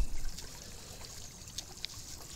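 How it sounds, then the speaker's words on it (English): Water trickles and dribbles through spent coffee grounds in a steady, soft, close wash with a few tiny drips standing out, no voices. "Once you've run the water through the coffee ground"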